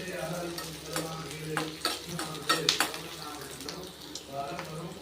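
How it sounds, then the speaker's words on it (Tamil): Garlic sautés in a pan for a Madurai-style thanni chutney, giving a soft continuous sizzle broken by a few scraping stirs and light clinks, fairly quiet and close. "இந்த பூண்டு நல்லா வதங்குற அளவுக்கு நம்ம வதக்கிக்கலாம்."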